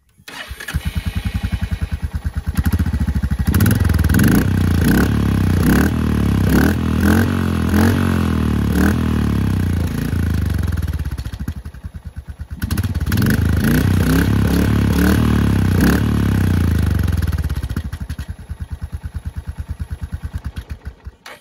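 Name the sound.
Royal Enfield Hunter 350 performance exhaust with dB killer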